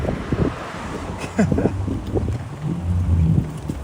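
Strong gusty wind buffeting the microphone during a bike ride around the Jamaica Bay Loop in New York City, a loud rumbling roar with surging gusts and faint background noise.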